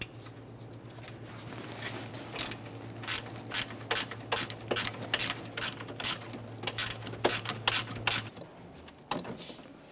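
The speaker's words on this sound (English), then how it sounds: "I'm using an 8mm ratcheting wrench. Just reach up in this area, we can remove that bolt." An 8mm ratcheting wrench removes a bolt under the hood of a Jeep Grand Cherokee, giving a string of quick, sharp clicks in uneven bursts over a low steady hum, close by.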